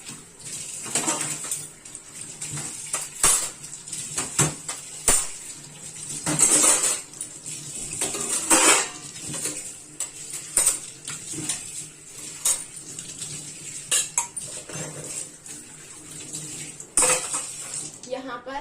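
Dishes, pots and utensils being washed at a small home kitchen sink: steady clinks and clatters of steel utensils and plates with running water, close and fairly loud, with occasional louder knocks.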